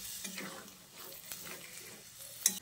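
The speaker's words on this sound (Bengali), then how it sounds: "তারপর জলটা দিয়ে সব কিছুকে আরও একবার ভালো করে নেড়ে চেড়ে মিশিয়ে নিচ্ছি" Stirring banana stem curry in a pan just after water has been added, a steady soft scraping and sizzling with faint clatter, ending in a sharp clink near the close.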